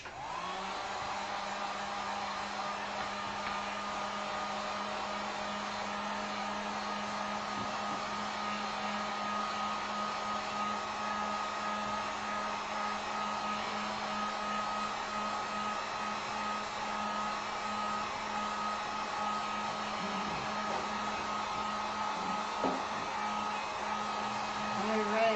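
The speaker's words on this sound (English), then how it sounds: "let me hit this just for a second with the heat gun" A heat gun blows steadily on acrylic paint with a constant, even whirring rush and a low motor hum, holding at the same level for about twenty-five seconds with no break.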